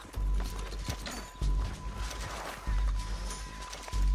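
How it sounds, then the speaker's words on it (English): Horse hooves clip-clop in a steady rhythmic gallop in Red Dead Redemption II, with repeated heavy thuds at regular intervals under ambient game sound. "Get on the horse."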